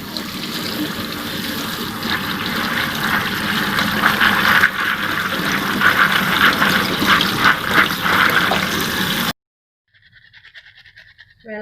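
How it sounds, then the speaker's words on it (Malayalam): Peanuts being rinsed under running water in a sieve, a steady close splashing and trickling with some rattling that runs for about nine seconds, then stops abruptly and leaves near silence broken by faint clinks. "ഇത് അരിപ്പയിലേക്ക് ഇട്ടിട്ട് നമുക്കിതൊന്ന് വാഷ് ചെയ്തെടുക്കാം."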